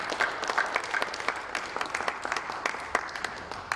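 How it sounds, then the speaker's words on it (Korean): A seminar audience at a church denomination's general assembly applauds the presenters, a moderate group clapping with distinct individual claps audible in an uneven, lively rhythm over several seconds. "다시 한번 박수해 주시면 감사하겠습니다"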